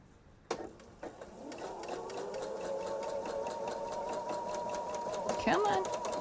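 A sewing machine starts up after a couple of clicks and stitches a quilt in a steady, fast mechanical whir, with a brief change in pitch as it slows near the end; it is close and fairly quiet.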